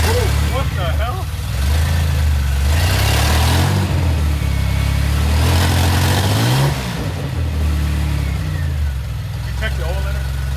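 A propane-powered engine in a DeLorean car runs steadily close by, idling and rising in a few revs, with people talking over the motor throughout.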